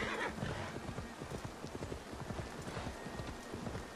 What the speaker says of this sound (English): Why is the horse running?